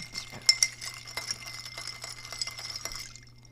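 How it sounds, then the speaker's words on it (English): A cocktail with bitters being stirred, giving soft repeated clinks and scrapes of a spoon against glass at close range under a steady low hum, with no talking. "Then we stir it up."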